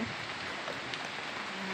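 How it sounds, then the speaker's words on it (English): Rain beginning to fall during a severe summer thunderstorm in Wisconsin, a steady, even hiss of drops with wind, continuous and fairly close throughout. "And it's starting to rain, and the wind's blowing."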